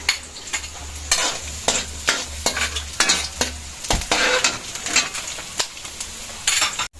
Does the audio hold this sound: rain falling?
no